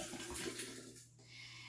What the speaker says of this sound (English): So I am going to pour the water over this.